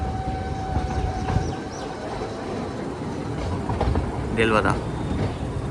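Meter gauge train rolling into small Delvada station on the Junagarh line, a low rumble and clatter with a brief high squeal near the end, under someone speaking.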